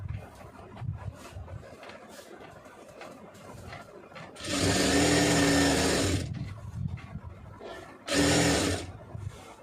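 A sewing machine stitches fabric for a star-shaped and pa-style blouse neckline: two loud, steady bursts of whirring needle action, the first about two seconds long and the second shorter, over a quieter room background.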